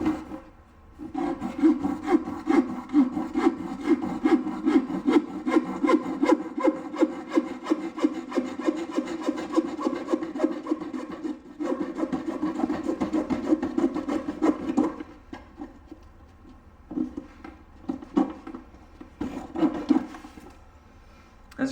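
Hand saw cutting wooden pieces for a bird perch, with rapid rhythmic back-and-forth rasping strokes up close, pausing briefly and resuming in shorter bursts near the end, with no talking.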